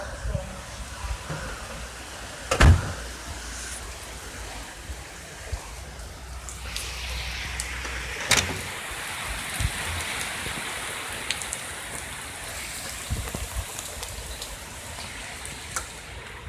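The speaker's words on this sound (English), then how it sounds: "It's pouring out too." Steady heavy rain from a hurricane in Florida roars throughout, with occasional thumps and knocks and a person speaking in short bursts over the downpour.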